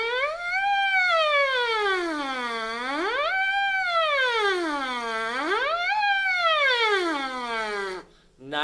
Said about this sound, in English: This is called a lip slur or a buzz on the mouthpiece. We call them sirens sometimes.